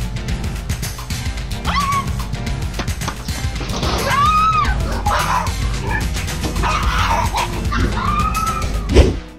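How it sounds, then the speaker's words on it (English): A dog barks and yelps repeatedly, close and loud, in a tense outdoor standoff while chasing off a bear, with a sharp crash near the end. "the dog bravely chased away the ferocious bear."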